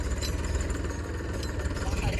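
A modified tractor's engine runs in a steady, loud, low rumble with a rough, knocking vibration throughout.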